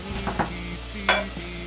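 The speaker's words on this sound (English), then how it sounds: "Now we're going to make the onions sweat, meaning they're going to become a little bit transparent." Chopped onions sweating in a pan for vegetarian risotto, a soft steady sizzle broken by a few quick stirring scrapes, close and alone.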